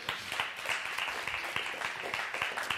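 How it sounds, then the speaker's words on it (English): A church congregation claps during a Sunday service. The clapping is soft and rhythmic, with a pulsing beat through the short stretch, heard at a distance in the hall. "Give them a round of applause."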